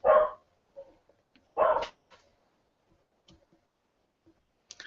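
A dog barks close to the microphone during a live online broadcast: two loud, separate barks about a second and a half apart, followed by faint scattered clicks and quiet noises.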